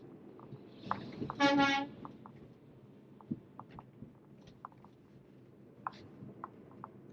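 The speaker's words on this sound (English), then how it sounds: "Not sure why that trunk was honking, but hello to you too." A truck horn honks once in a short, loud blast outside a Tesla driving on FSD Beta near UC Davis, over steady road and cabin noise with faint ticking.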